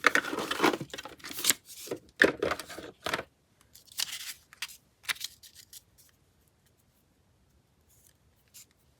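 Paper being cut with scissors for a flower-themed journal: a run of crisp snips and rustles close by, thinning into silence after about six seconds.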